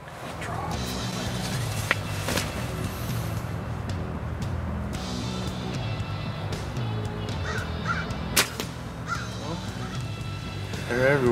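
Crows caw now and then over steady rain-like background noise, a few harsh calls standing out at moderate distance.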